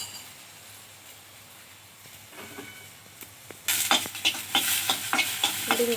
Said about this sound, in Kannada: ಒಂದು ಸ್ವಲ್ಪ ಎಣ್ಣೆ ಹಾಕೊಂಡು ಹುರ್ಕೊಂಡು ಹುರ್ಕೊಂಡು ಈರುಳ್ಳಿ ಬೆಳ್ಳುಳ್ಳಿ ಚೆನ್ನಾಗಿ ಹುರ್ಕೊಳ್ಳೋಣ